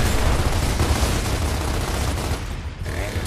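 Gears of War Ultimate Edition campaign battle with dense, continuous gunfire and explosions, loud and chaotic, easing slightly near the end.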